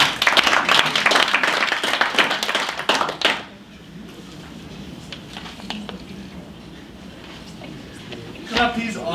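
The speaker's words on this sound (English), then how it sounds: "Can we give him a round of applause?" An audience at a talk on decolonising education in Africa gives a loud round of clapping for about three seconds, then it drops away to quieter room sound with a voice speaking.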